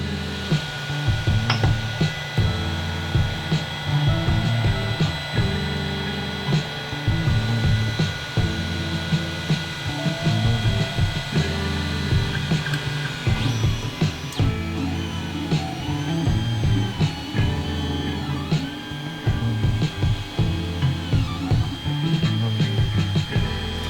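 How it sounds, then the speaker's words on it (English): A 3D printer runs a print with a continuous whirring hum from its motors and fan, and its stepper moves stutter rhythmically under the steady drone. "Home it out again here, cue up the print, and let's see if this works better."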